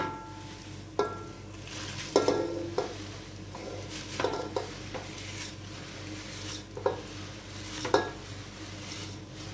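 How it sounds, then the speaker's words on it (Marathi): Thin poha flakes are tipped into a spiced tempering in a pan and stirred, giving a soft background sizzle and repeated scraping and clinking of a utensil against the pan. "आता आपण या फोडणीमध्ये थोडे थोडे करून पोहे घालून घेणार आहोत"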